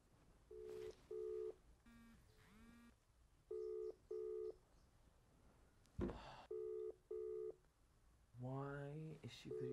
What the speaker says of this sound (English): Let me video call her.